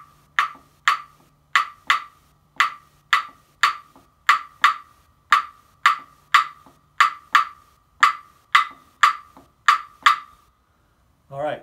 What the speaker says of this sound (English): So I'll go ahead and demonstrate son clave in 3/2